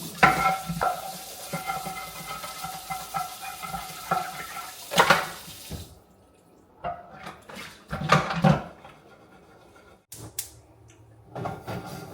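Salmon frying in a pan, a close sizzle mixed with stirring and clinking of pots and utensils, with a brief break midway before clatter and frying resume.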